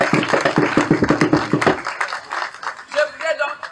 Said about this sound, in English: Il faut qu'on s'applaudisse pour tous,